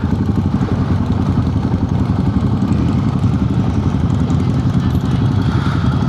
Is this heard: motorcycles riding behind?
yes